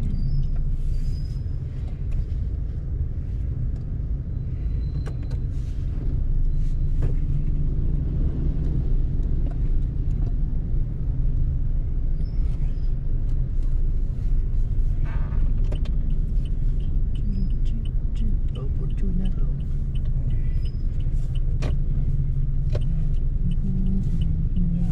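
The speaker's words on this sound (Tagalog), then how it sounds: "Guys, tingnan nyo, napaka-traffic dito sa Rosario." Heavy road traffic rumbles steadily through Rosario, Cavite, a dense wash of car engines and passing vehicles with occasional louder swells, close and continuous with no talk.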